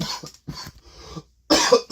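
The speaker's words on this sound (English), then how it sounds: "oh my gosh, sorry for my coughing." A person coughs several times in quick, close bursts, with a short pause before a final harsher fit of coughing.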